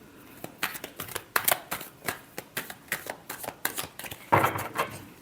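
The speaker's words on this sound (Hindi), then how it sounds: "Last shuffle." Tarot cards are shuffled by hand in a series of crisp riffling flicks and soft slaps, close and distinct, ending in a louder burst of shuffling, with no talk over it.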